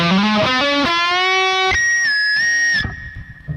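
Distorted electric guitar plays a solo lick with a squealing pinch harmonic bent up, released slightly and bent back up, loud and sustained with no talking.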